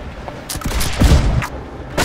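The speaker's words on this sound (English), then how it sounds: "you guys keep firing left side cannons if possible" Ship cannons firing in the naval game Blackwake: a series of booming blasts, several in quick succession with a heavier thump in the middle and another at the end, dense and rumbling.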